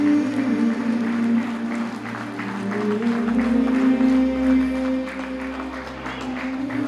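Applause for the soldier Ruzik and Armenian border guards at a gathering: steady crowd clapping over a sustained musical drone, continuous and fairly loud throughout.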